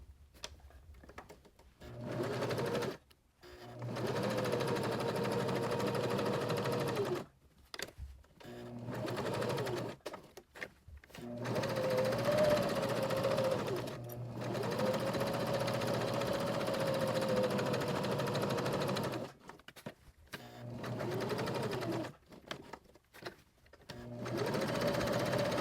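A sewing machine runs in repeated bursts as it back stitches across fabric on a beginner project, its steady mechanical whir starting and stopping several times with short pauses in between and no talking.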